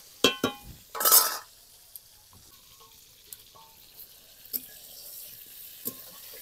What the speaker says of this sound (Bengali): এখন আমি পটলটা ভালো করে ভেজে নিচ্ছি